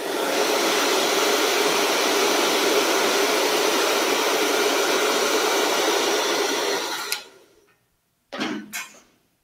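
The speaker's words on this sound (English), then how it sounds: "Once again, lock it into the hairdryer." A handheld hairdryer blows steadily on freshly sprayed hair for about seven seconds, a loud, close, broadband whoosh, then cuts off abruptly, followed by a couple of brief rustling handling noises.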